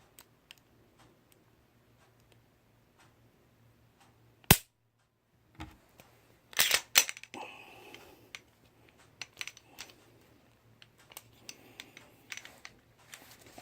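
Smith & Wesson M&P 9mm pistol being dry-fired, its trigger clicking in a few sharp, isolated snaps amid faint handling noise, fairly close and with no talking.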